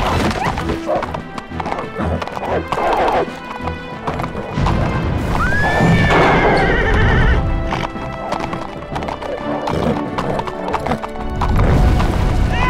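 Horse hooves clip-clop at a gallop with a loud neigh, from a fantasy film about a flying horse, set against dramatic music and crashing effects throughout.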